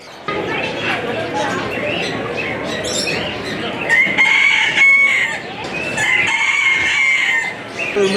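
A rooster crows repeatedly amid clucking fowl and a busy background of voices and crowd noise at a bird and pet show.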